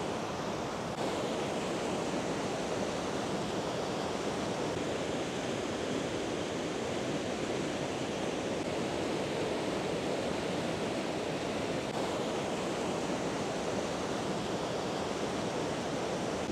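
Small waterfalls on the Cascades trail in the Pyrenees pour into a tiny pool, giving a steady, even rush of falling water that stays close and constant throughout, with no voices.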